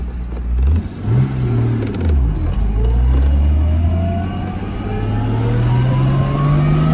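A 1964 Jaguar E-Type Series 1 roadster with a 3.8-litre engine drives off, loud and close, its engine note rising and falling through a couple of revs before settling into a steady climbing pitch as it accelerates.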